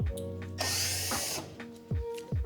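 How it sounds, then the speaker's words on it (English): A power drill whirs in short bursts, close and loud, removing Phillips screws from range hardware, with brief motor spin-ups and pauses between. "I'm just gonna use a Phillips screwdriver or a drill bit here"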